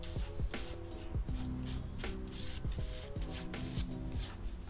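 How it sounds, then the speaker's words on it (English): Pencil sketching the basic outline of an eye on paper, heard close up as soft scratchy rubbing strokes in quick repeated bursts. "Let's start by drawing the basic shape."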